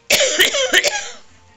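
A person sick with flu coughs four times in quick succession, close and fairly loud, the harsh bursts fading into a quiet room with no talking.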